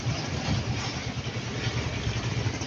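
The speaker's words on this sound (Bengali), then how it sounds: "বাইক নিয়ে বেরিয়ে পড়েছি একাই।" A motorcycle engine idles nearby with a steady, low throbbing putter, running evenly without revving.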